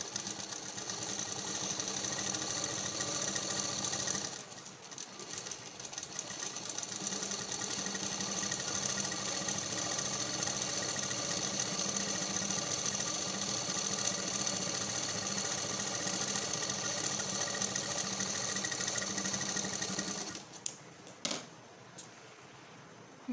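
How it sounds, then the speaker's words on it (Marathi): Sewing machine stitching a blouse runs in a steady close whir with a mechanical hum, briefly easing off near the start and stopping toward the end with a few clicks. "आता आपण याला शिलाई मारून घेतलेली आहे"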